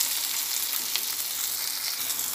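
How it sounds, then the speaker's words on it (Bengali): Tomatoes and onions fry together in a pan over a low gas flame, giving a soft, steady crackling sizzle, close but fairly quiet, with faint stirring and no talk. "টমেটো দিয়ে টমেটো পেঁয়াজ দুটোই একসঙ্গে আবার একটু ভেজে নিচ্ছি।"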